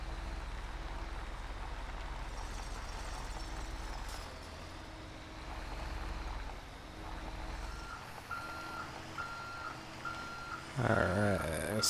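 A heavy wrecker truck in GTA 5 idles with a low engine rumble, then a steady reversing beep repeats evenly in the final seconds, followed by a short burst of mechanical clatter, with no talking.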